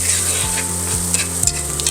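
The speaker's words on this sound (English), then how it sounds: "we'll then add the butter and onions to the skillet and let those onions cook to caramelize so that they're rich in flavor" Butter and onions sizzle and fry steadily in a skillet, a close, continuous crackle with a few brief stirring scrapes and no talk.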